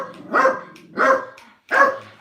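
A woman's small dogs give three sharp, evenly spaced barks, loud and close, with short silences between them and no voices.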